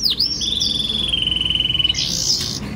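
A small imported male canary sings up close: a sharp opening chirp, then a long rapid trill of evenly pulsed notes, ending in a brighter warbled burst.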